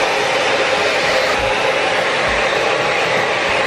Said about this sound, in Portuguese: E agora eu vou passar um secadorzinho aqui pra mostrar como é que fica o resultado